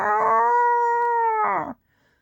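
A voice imitates a Godzillasaurus roar with one sustained, howling cry of under two seconds that rises and then trails off, close and fairly loud, followed by silence.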